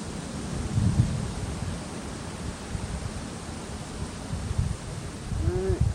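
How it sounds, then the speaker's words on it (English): Outdoor wind buffets a microphone on a fishing trip, a steady broadband rush with low rumbling gusts that swell and ease, loud and continuous throughout. "I think the actual wind's died off a bit."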